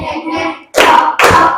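Classroom students clap in unison for an Islamic studies lesson, two sharp, loud bursts of group clapping about half a second apart, following a brief spoken lead-in.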